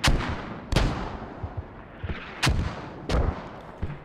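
Repeated heavy mortar fire and explosions in the video game Squad, with several sharp booming blasts at irregular intervals, loud and close, over a rumbling battlefield background.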